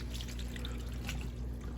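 Pepperoncini peppers and their juice poured into a cooking pot for Italian beef sandwiches, a steady close trickle and splash of liquid with soft drips, no talking.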